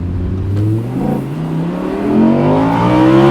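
Audi R8 Spyder engine revving in manual mode, a loud, close engine note climbing in pitch through repeated rises, with a brief dip mid-way before pulling hard again.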